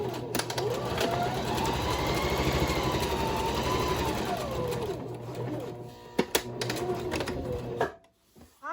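A sewing machine back-stitches the top and bottom of a hobo bag, running steadily up close for several seconds, pausing with a few clicks, then racing briefly again before stopping.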